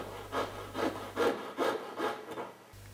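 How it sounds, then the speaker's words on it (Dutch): A small saw works the underside of a piece of jewellery, giving about six steady back-and-forth rasping strokes, close and moderately loud, with no talking. "Dit houdt in dat de onderkant van het sieraad bewerkt wordt met een zaag."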